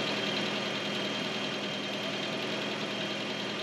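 A Volvo B18A four-cylinder engine settling into a steady idle after the throttle is released, a close, continuous mechanical hum with a faint rhythmic knock and no voices.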